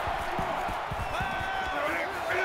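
Loud stadium crowd roars at an Oregon at Ohio State college football game in NCAA Football 22, a dense steady wall of cheering with commentators talking over it throughout.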